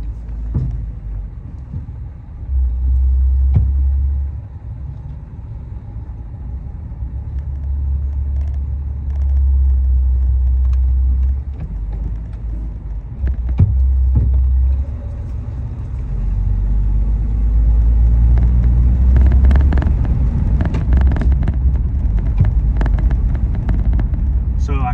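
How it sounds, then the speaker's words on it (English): An old Chrysler with Fluid Drive transmission drives along with a low, rumbling engine that rises and falls as it shifts, with wind buffeting the microphone and occasional clunks. "this car, you just drive it like a regular three-speed manual."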